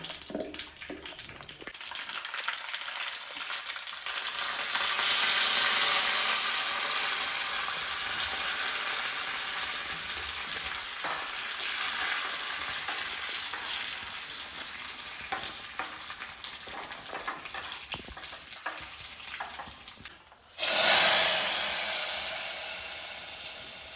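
Mustard seeds crackle and splutter in hot oil in a home kitchen during lunch cooking, with a steady close sizzle and crackle that runs without a break and briefly cuts out near the end.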